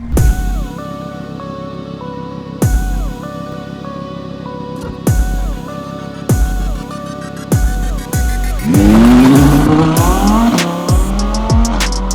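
A four-wheel-drive sports car engine repeatedly cranks and catches, several sharp starter bursts, then settles into a loud rising rev near the end.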